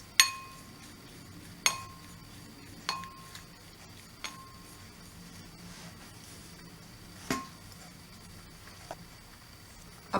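A spoon mixing cheese, chopped green chilies and a pinch of pepper in a bowl gives about seven sharp, quiet clinks spaced irregularly, with near silence in between.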